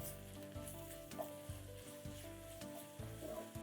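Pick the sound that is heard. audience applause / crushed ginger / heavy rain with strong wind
crushed ginger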